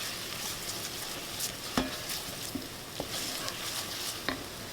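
Creamy tomato soup base cooking in a pot, a steady faint sizzle with soft stirring scrapes and a few sharp clicks of a utensil against the pot, no talking.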